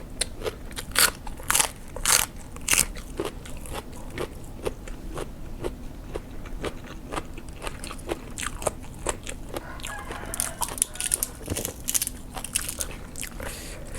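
Crispy salad being bitten and chewed, giving a sharp, close crunching that repeats in an irregular rhythm, loud and dry, with no talk.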